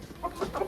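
Chickens cluck in a short, close burst of a few calls as the hens are let out of their coop, with a rooster nearby.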